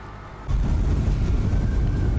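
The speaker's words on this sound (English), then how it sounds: "Now that is an explosion." A deep explosion in the video game Horizon Zero Dawn sets off a loud, sustained rumbling boom about half a second in. The roar stays heavy and low and keeps going to the end, with no voices over it.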